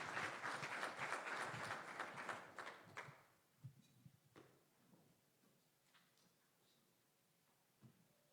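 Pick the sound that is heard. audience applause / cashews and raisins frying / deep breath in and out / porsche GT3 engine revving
audience applause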